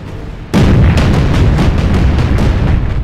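Yamato battleship guns firing in the naval video game Battle Stations Pacific: a sudden loud, booming blast erupts after a short lull, followed by a dense rolling barrage of repeated heavy shots.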